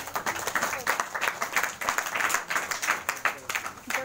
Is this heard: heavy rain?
no